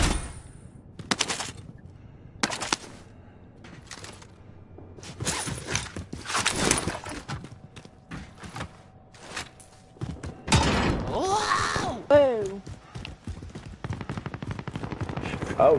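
Enemy gunfire in an online shooter game, sharp isolated shots and short bursts spaced across the scene, some loud and close, mixed with clanking mechanical and door-like sounds.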